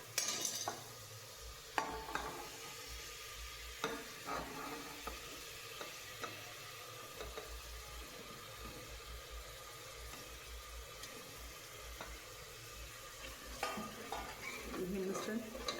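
Ground coconut, coriander and garlic paste cooking in oil, a quiet continuous sizzle with occasional spoon scrapes and pan clinks, close and without talk.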